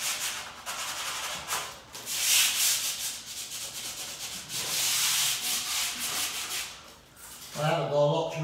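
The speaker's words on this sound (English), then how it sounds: "So I just rub a section down" Sandpaper rubbing down a painted wall surface in a new-build house, with long raspy strokes repeated back and forth at an even pace, close and continuous with brief pauses between passes.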